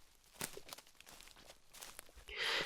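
Slow, dragging footsteps scrape and shuffle unevenly in a horror-story sound effect, a few scuffs and crunches spaced apart, closing with a louder rough swish.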